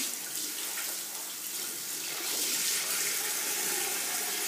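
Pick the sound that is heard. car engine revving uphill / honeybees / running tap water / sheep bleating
running tap water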